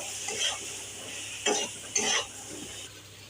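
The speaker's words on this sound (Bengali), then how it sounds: "এবার আমি নাড়বো।" A few short scraping strokes stir potatoes with coriander powder, turmeric and salt in a pan for rohu fish curry. They come as brief separate swishes over a faint background, with no talking.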